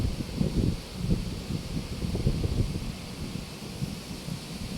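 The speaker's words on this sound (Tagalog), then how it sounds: "Sarap ng hangin dito mga idol." Wind buffeting outdoors in a park by a river, low gusty rumble against the microphone with a faint airy hiss, continuous and moderately loud.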